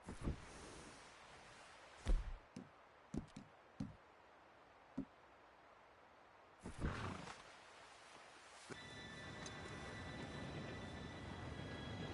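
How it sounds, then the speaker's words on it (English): A train approaches. After a few scattered thumps and knocks over a quiet background, a broad rumbling roar swells up near the end and holds steady. "Train should be here any minute now."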